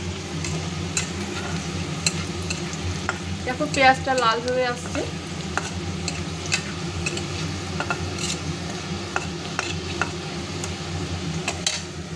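Fried hilsa fish in a curry with poppy seed paste and spices sizzles steadily in a pan, with occasional scraping stirs and clinks of the utensil, close and continuous, while a voice speaks briefly.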